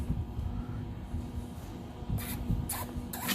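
A Lapmaster Wolters model 12 lapping and polishing machine runs with a quiet, steady low mechanical hum, joined near the end by a few brief hissing bursts.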